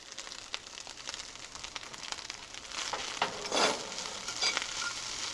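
Corned beef hash frying in a pan on the stove, a continuous close crackling sizzle with scattered pops and a louder stirring scrape swelling in the middle.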